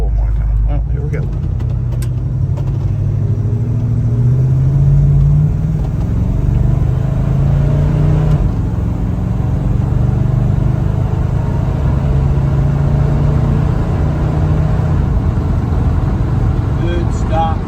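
1972 Chevrolet Super Cheyenne big-block pickup heard from inside as it pulls away and accelerates, a heavy low engine drone rising and easing with shifts, and people talking over it.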